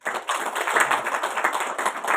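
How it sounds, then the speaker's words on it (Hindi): Brief burst of audience clapping at a gathering on unorganised workers, a fairly soft, continuous patter of many hands lasting a couple of seconds. "इनकी ताली बजा के।"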